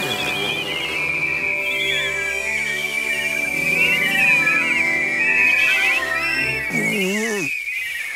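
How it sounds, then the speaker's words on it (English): Cartoon characters whistle together in a tuneful, wavering sustained line for about seven seconds, ending with a short rising-and-falling flourish, loud and close against background music. "One, two, three, whistle."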